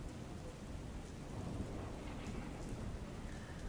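Heavy rain pours down steadily as a dense, even wash of noise, close and unbroken, with no voices.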